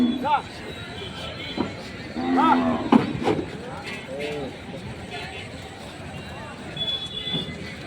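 Bulls low repeatedly amid a busy crowd at the weekly cattle market in Aija, with people chatting and calling in the background throughout.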